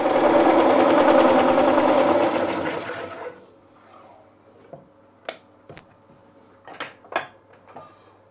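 A Woodcut Tools Bowlsaver coring a nest of bowls on a wood lathe gives a loud, close, continuous grinding whir that winds down after about three seconds, followed by a quiet hum and scattered sharp knocks and clunks.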